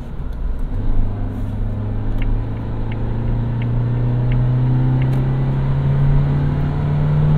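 A 2019 Suzuki Jimny with a 5-speed manual accelerates, its engine drone rising steadily in pitch over several seconds under a steady cabin rumble, heard from inside with no talking.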